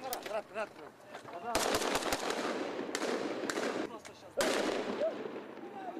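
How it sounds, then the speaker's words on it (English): Rapid bursts of gunfire crack and echo in a street in southern Kyrgyzstan, with shouting voices between the volleys. "Gunfire was still being heard in the street."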